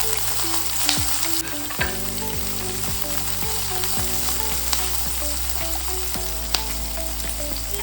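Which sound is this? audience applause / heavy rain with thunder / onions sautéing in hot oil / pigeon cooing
onions sautéing in hot oil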